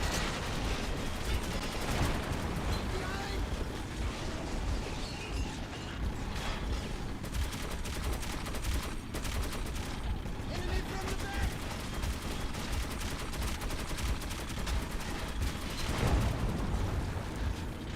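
Sustained automatic gunfire from the shooter game Metro 2033, a dense, continuous clatter of rapid shots and mechanical rattling that fills the whole stretch at steady loudness, with a voice heard faintly underneath.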